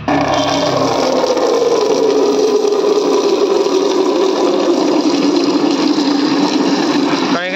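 Water is scooped and poured from a guppy fry tank, a continuous close gushing and splashing that stays loud and steady throughout.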